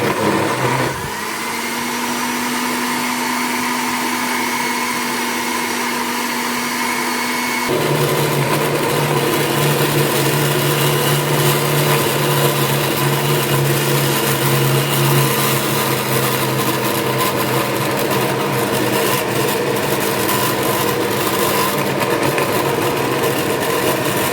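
Blender motor grinding chilies and onions for sambal, a loud steady whine that shifts pitch partway as the load changes, running continuously and close throughout with no talking.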